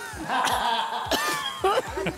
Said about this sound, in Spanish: Está tosiendo